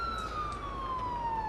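A loud electronic ambulance siren in the game Ambulance Life wails continuously, its tone gliding slowly downward, close and steady over a low rumbling engine hum.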